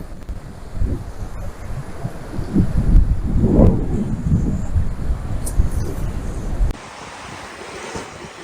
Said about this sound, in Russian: Большой поток сейчас весной.